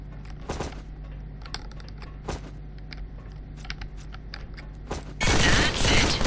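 Gunfire in the shooter game Dizzel, with scattered sharp shots through a steady background hum, then a dense, loud burst of rapid fire near the end.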